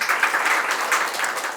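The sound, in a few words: audience applause welcoming speakers at academic forum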